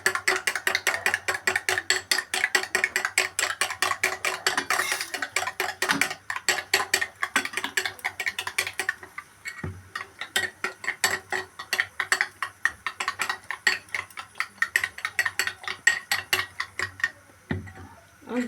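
Egg whisked briskly in a bowl, a fast, steady rattle of tines clicking against the sides that runs nearly nonstop, pausing briefly midway before resuming with slightly spaced strokes.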